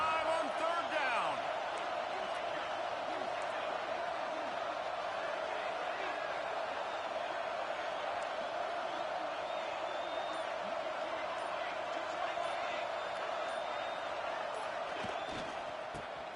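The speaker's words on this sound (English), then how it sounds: "The Buckeye crowd alive on third down." An Ohio State Buckeyes football stadium crowd roars on a third-down play, a dense, sustained wash of distant cheering and noise running under a commentator's voice.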